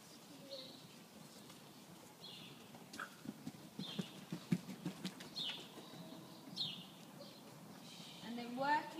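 A horse canters around a dressage arena, its hoofbeats thudding in a soft, rhythmic three-beat pattern, faint and somewhat distant, with a few quieter background sounds around them.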